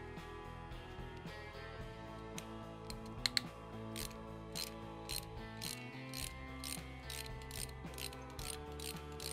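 A hand ratchet works the cam cover bolts loose on a Harley-Davidson Sportster 883cc engine, giving quick repeated clicking bursts close by, set against steady background music.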